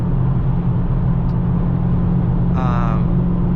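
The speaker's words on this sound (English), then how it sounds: "The exhaust sound" A Challenger 392's steady engine rumble with a low exhaust drone, rising briefly toward the end as the engine revs, close and continuous.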